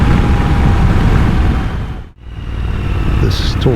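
Triumph Scrambler 1200 XE motorcycle on a highway, loud broadband engine and wind roar that briefly drops away then builds again, close and continuous.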